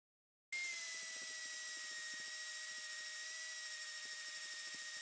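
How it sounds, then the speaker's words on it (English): Hole saw spinning in a drill press, shown while fabricating a DIY crossmember: a sudden start into a high, steady whine that holds for several seconds, with faint regular ticking underneath. "So with that hole saw in the drill press"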